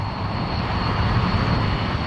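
An old airliner takes off in the Democratic Republic of Congo, its engines giving a loud, steady roar that stays close and constant throughout, with no voices.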